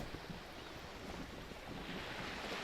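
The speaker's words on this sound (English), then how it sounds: "The wind flaps the sail above her." Wind blowing across a boat sail in the game Disco Elysium, a steady broad rushing hiss with a soft low rumble beneath, constant and fairly faint, with no voices.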